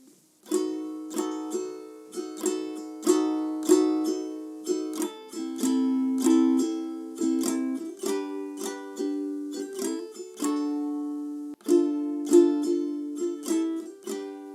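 A ukulele is strummed alone in a steady rhythmic pattern, bright chords repeating with regular down-and-up strokes and changing every few beats.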